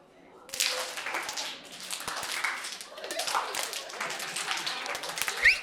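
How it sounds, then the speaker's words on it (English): Groups of people in a physical literacy activity clap their hands while throwing and catching, with scattered claps and taps under lively chatter and a voice. "every time you throw, clap your hands"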